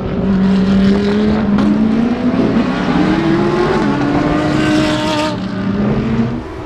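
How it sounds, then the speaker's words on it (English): GT race cars lapping the Nürburgring circuit, their engines a steady, loud droning whine that rises and falls in pitch as they accelerate and pass, with no voices over it. "GT race cars are going around at the moment, and you can probably hear them in the background."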